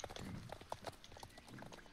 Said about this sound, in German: jetzt mal hurtig in den Galopp und los zu den Pferdchen